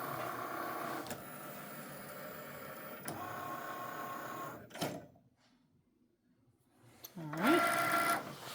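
A Cricut Maker cutting machine whirs steadily as it cuts greeting card paper, dropping into near silence midway before the motor hum resumes; a voice speaks briefly.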